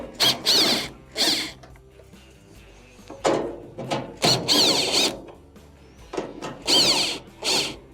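Two 1/4 inch screws are backed out of the console on a Maytag dryer with a power driver or ratchet, giving repeated short whirring, clicking bursts with pauses in between, close and fairly loud with no talk.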